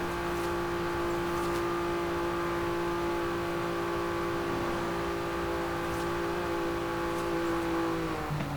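A Noble M400 supercar runs downhill at top speed in the racing game Forza Horizon 5, its engine holding a loud, steady high-pitched drone with a constant whine of wind and tyres throughout.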